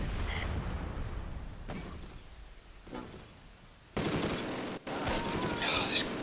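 Artillery barrage in the wartime strategy game Close Combat: Last Stand Arnhem, bursts of gunfire and blasts growing louder and denser toward the end, with someone talking over the early part.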